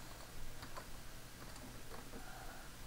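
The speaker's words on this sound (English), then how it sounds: "I'm going to type WOT." A few faint key taps on a computer keyboard, soft scattered clicks over a steady hum of background noise.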